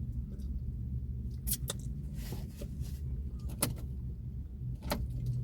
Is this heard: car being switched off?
yes